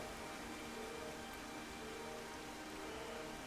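Steady rain in the game Xenoblade Chronicles, a faint, even hiss of falling drops that stays constant throughout with no other sounds.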